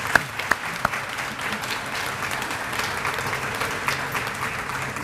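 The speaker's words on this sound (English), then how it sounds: "Let's give them a round of applause." Audience applause at a retirement tea, a steady wash of clapping from a roomful of people that holds even for the whole stretch, with a few sharper claps standing out near the start.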